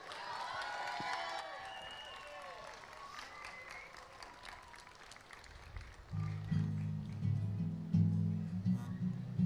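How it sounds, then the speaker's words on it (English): An audience at a Fiesta Days talent show applauds, a dense, steady wash of clapping heard throughout, joined near the end by rising music. "Please give a great big round of applause"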